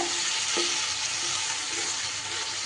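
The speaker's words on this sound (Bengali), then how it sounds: "1 মিনিটের মতো সুন্দর করে আমি এইভাবে কষিয়ে নিই" Chili lote fish simmering and being stirred in sauce in a pan, a steady close sizzle with occasional soft scraping strokes of the spoon, no voices.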